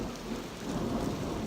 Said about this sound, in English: And we have an afternoon thunderstorm.